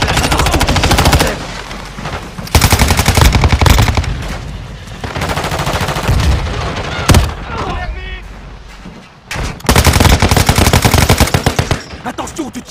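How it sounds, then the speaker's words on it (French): Sustained automatic gunfire from a team deathmatch in Call of Duty Warzone Mobile, loud dense bursts of rapid shots with brief pauses, mixed with game sound effects and a faint voice. "Attention, tu tires, bordel."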